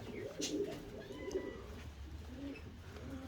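Arab pigeons coo softly in low, throaty bursts, several repeating calls close by against a quiet background.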